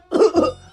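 A single person's harsh double cough, close and loud, two quick bursts within under a second.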